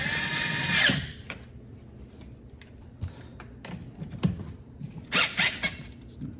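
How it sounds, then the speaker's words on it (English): Power tool, likely a cordless driver, tightening 10mm nuts on the battery terminals of a Porsche GT4: a longer whirring burst up front, then short ratchety spurts and clicks, with a double burst near the end, close by. "And then we'll take our 10mm and tighten the nuts."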